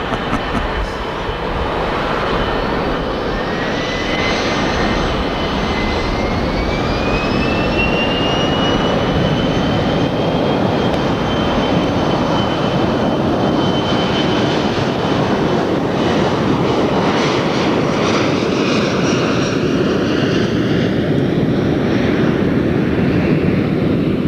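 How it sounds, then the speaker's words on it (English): A Boeing 737-200 jet airliner runs its engines in a loud, steady roar that fills the whole stretch, with a rising turbine whine sweeping up over the constant rumble. "to figure out why Kevin's favorite plane now is the 737-200"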